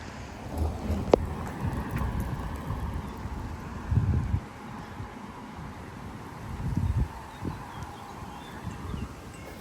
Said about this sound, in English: Big gusts of wind.